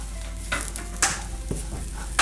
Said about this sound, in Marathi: हा नावाला जरासं आपण फ्राय करायचं फक्त गरम मसाला टाकल्यावर